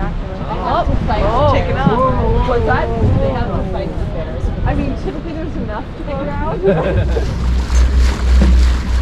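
A whale-watching boat cruises slowly through the water off Anacortes, Washington, giving a steady engine drone and wind-and-water wash under continuous close talking, with a low throb rising toward the end.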